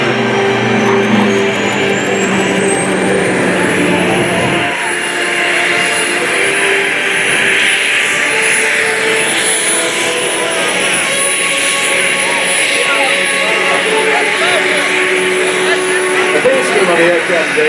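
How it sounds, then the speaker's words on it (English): A Short Tucano turboprop flies a slow roll at an airshow over Dover Air Force Base, its loud, sustained engine drone with a rising whine sweeping past, while a commentator speaks over the public address. "Watch now as he comes in from your right this time, the short Tucano"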